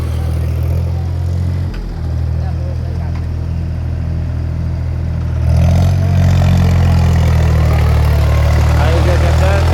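A tractor engine runs close by with a steady low idle, briefly dipping around two seconds before revving louder and rougher in the second half, with some clatter throughout.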